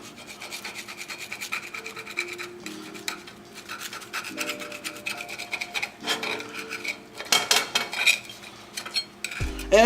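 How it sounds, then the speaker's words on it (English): A knife slicing a chorizo quesadilla into four pieces on a board, with scraping, rasping strokes and light clinks of metal against the plate, plus a few sharper cuts near the end, close and fairly quiet. "Now that we have the quesadilla, I'm gonna cut it for you guys. Cut it into 4"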